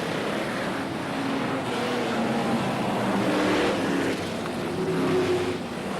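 Spedeworth F1 stock cars from 1975-77 racing on a track, their engines blending into a dense, continuous roar that holds steady and loud for the whole stretch.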